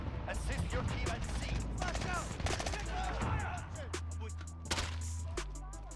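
AS VAL rifle bursts in Modern Warfare, rapid suppressed automatic fire in quick clusters with mechanical clicks and chatter, close and punchy, with brief game voice callouts in between.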